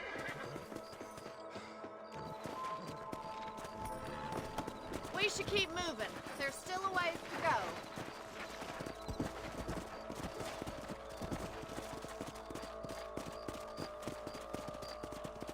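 Horses whinnying and hooves clip-clopping in the Western video game Red Dead Redemption, with a couple of loud neighs midway over steady hoofbeats and game music, while a character speaks briefly.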